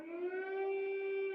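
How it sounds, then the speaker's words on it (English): An air raid siren sounding in Ukraine during a Russian attack, a single steady mournful wail holding one pitch throughout, clear and unbroken, with no voices. "The country waking up to air sirens and Russian ballistic missiles going off."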